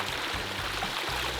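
Water spilling over a bubbling boulder entrance feature, a steady, close rush and gurgle of flowing water with no pauses or voices.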